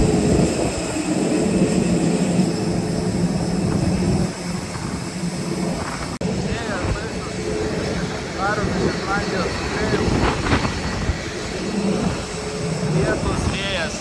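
Steady roaring drone of an airliner's engines heard from inside the cabin during flight, a constant loud whoosh with people talking intermittently over it.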